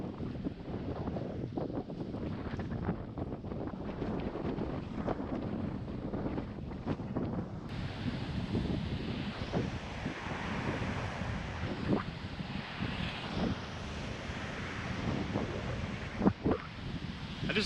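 Steady wind buffeting the microphone with a broad rush of surf at the beach, continuous and fairly loud throughout, with no talking.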